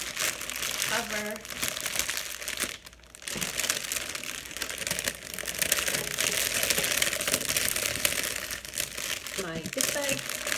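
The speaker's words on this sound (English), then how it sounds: "we'll just try to gather up all of this plastic so that it will actually" Plastic gift wrap being gathered up by hand, continuous loud close crinkling and rustling throughout, with a brief pause partway and someone speaking faintly at times.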